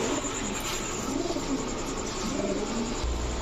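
Gola pigeons cooing close by, low soft repeated coos over a steady background hiss, with no talking.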